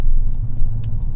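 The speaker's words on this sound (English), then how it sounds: "it is a diesel, so you know, a little bit of clatter is to be expected" An Alfa Romeo 159 diesel engine runs with a steady low rumble and light clatter, heard from inside the moving car, continuous and fairly loud with no talking.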